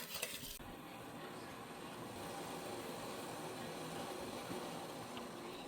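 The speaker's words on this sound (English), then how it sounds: "I'm going to keep stirring this and bring it to a boil." Steady bubbling and stirring of beet juice in a pot on a stove, brought to a boil for pickled eggs, a continuous low simmering wash with a brief clatter at the start, no voices.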